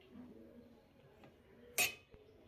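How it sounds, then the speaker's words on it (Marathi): A spoon stirs spinach soup in a pot, making a faint, soft scraping, then one sharp metallic clink and a lighter tap just after. "व्यवस्थित मिक्स करून घ्यायचं आहे।"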